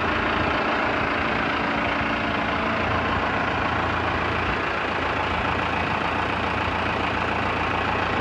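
A Valtra M130 tractor with a 130 hp SISU engine idles steadily, a continuous low, even diesel rumble with no other sounds.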